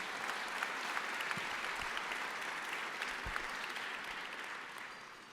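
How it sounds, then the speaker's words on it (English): Steady audience applause for a cancer research scientific panel fills a hall, dense even clapping held at a moderate level before tapering slightly at the end. "Please give them a round of applause."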